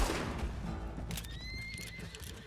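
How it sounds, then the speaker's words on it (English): A horse in Red Dead Redemption 2 gives one loud, close neigh that trails off, with hooves clopping beneath it. "Oh, that horse."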